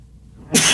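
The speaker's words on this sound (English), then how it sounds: "I had to sneeze" A single sharp sneeze bursts out suddenly after a brief near-silence, loud and close.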